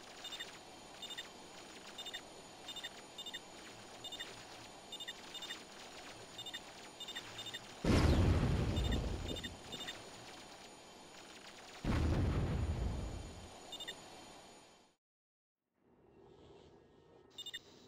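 Laser satellite strikes in Warzone 2100 land as two heavy, roaring explosions a few seconds apart over steady battle ambience and beeping, each rumbling for a couple of seconds before the sound cuts off.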